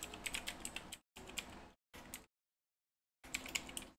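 Keystrokes on a computer keyboard as a prompt is typed, in rapid bursts of close clicking separated by short pauses and one longer silence, with no voices.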